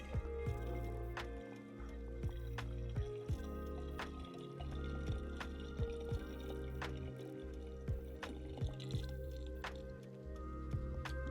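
Water trickles and drips steadily into the reservoir of an IKEA self-watering plant pot during a refill, a continuous close liquid sound with scattered splashy drip accents and no talking.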